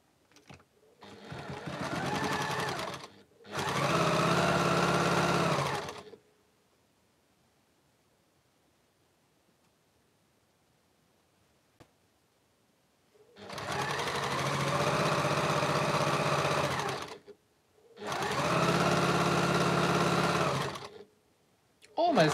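A home sewing machine stitches a background-colored border strip onto the right-hand side of a quilt in four sustained runs, two close together at the start and two after a long quiet pause.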